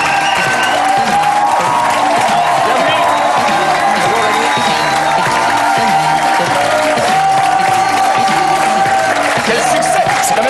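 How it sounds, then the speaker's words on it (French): A studio audience applauds and cheers for a guest on a television show, a loud, sustained wash of clapping with whoops that holds steady throughout. "Les applaudissements féminins en votre faveur, j'imagine."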